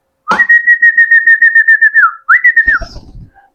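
A person whistles to call a pigeon, a long series of rapid, trilling pulses on one steady pitch, pauses briefly, then gives a shorter burst, loud and close.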